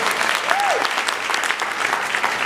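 Dense, steady applause from an audience at a live speech event, loud and continuous for the whole stretch, with no talking over it.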